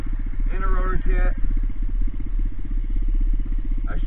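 A pit bike fitted with a big bore exhaust and rotor kit idles nearby with a steady, rapid thumping putter, while someone talks briefly over it.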